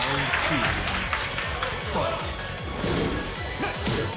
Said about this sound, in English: Crowd showing their support.